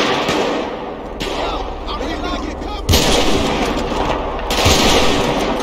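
Gunfire in GTA 5 while shooting armed enemies, dense loud rattling shots and heavy blasts running continuously, close and intense, with someone talking over part of it.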